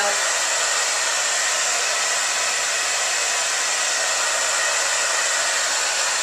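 A hair dryer blows hair dry with a loud, unbroken rushing whir held at one steady pitch, close by and alone, with no talking.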